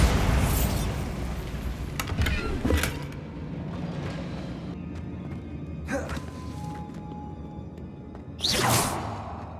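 A Bombarda blasting spell bursts in the video game Hogwarts Legacy: a loud whooshing explosion opens, then thuds and rumbling debris follow, with further sharp blasts around the middle and a final swelling boom near the end.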